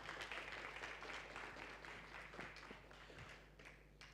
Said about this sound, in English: Let's get another round of applause for the Minister.